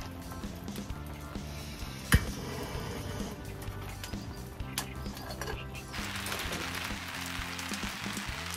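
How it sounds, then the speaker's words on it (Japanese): Heavy rain falls on a solo campsite on a cold day, a dense, steady patter and hiss throughout with one sharp tap early on, and no voices. "また雨が強くなってきましたね。"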